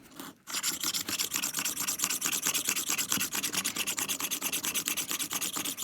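A thin profile sharpening stone is rubbed over the cutter edges of a Logosol PH260 planer moulder in quick, regular back-and-forth rasping strokes, close and continuous after a brief pause at the start.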